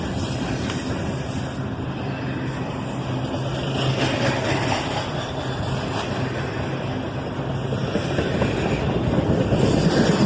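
CSX intermodal freight train easing into a siding, a steady broadband rumble of rolling cars with faint clatter and high squeal, continuous and gradually building louder over the span, no voices.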